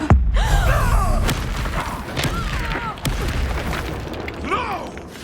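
Confringo fire spell from the Hogwarts Legacy video game, heard as loud booming blasts and crackling impacts amid game combat, with a character's voice calling out during the fight.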